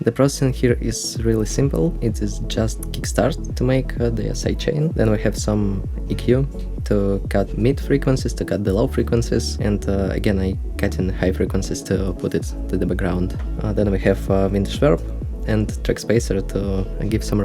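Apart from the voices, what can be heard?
No everyday noise stands out behind the speech.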